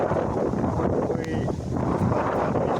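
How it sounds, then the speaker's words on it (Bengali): Strong wind ahead of a rainstorm gusts loudly and continuously across the microphone, a dense rushing roar that fills the whole stretch with a slight dip midway. "বৃষ্টির মতো মানে বৃষ্টি হবে, বাতাস খুব হচ্ছে"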